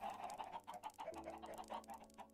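Chickens in Minecraft give a quick series of short, soft clucks in a rapid, bouncy rhythm, faint and nearby, with no other sounds over them.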